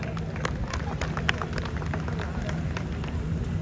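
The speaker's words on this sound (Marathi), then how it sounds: "आपण एकदा जोरदार टाळ्या वाजवूया" An audience at a municipal groundbreaking ceremony in Panvel claps steadily and loudly throughout, a dense continuous patter of many hands with faint crowd murmur beneath.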